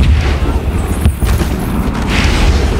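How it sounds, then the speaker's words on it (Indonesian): A bomb blast in a TV crime drama, heard as a loud, sustained roaring boom with rumbling low end that fills the whole moment. "sebuah bom yang dibawa oleh anak buah Leon Cox tadi meledak"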